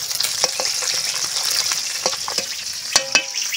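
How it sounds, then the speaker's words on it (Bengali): Fish pieces frying in hot oil in a home kitchen, a dense, close crackling sizzle with a few sharper pops and spatters scattered through, loud and continuous without any talk. "তো দেখো বন্ধুরা, মাছগুলো এখানে ভেজে নিচ্ছি।"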